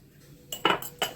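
A spoon stirs salt into a fine ground paste in a bowl for a fasting yogurt chaat. After a quiet moment come three close, sharp metallic clinks and scrapes against the bowl.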